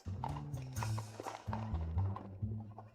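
Donkey hooves clip-clop in a steady walking rhythm, quiet and fairly close, with faint music underneath.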